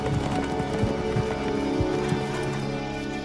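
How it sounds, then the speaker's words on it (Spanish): A single horse gallops across open plains, a steady run of hoofbeats at moderate distance over a continuous low background hum, with no voices. "Un caballo se aproxima raudamente por los llanos."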